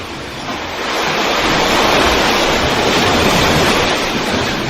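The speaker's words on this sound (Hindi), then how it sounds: "पानी की उछलती मौजों की गहन आवाज़ आपके ही आनंद की अनुभूति का प्रतिध्वनि है।" Ocean waves surge steadily onto the seashore in a loud, continuous broadband wash that swells slightly after the first second and holds without any voices.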